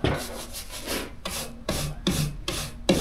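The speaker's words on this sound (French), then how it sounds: "On commence avec la ponceuse, avec son petit coussin qui permet de s'adapter au relief en fait du bois." Power sander with a soft cushioned pad working over wooden beams during a renovation, a rough rasping whir in repeated strokes of about a second each, close and fairly loud, with short pauses between passes and no talk.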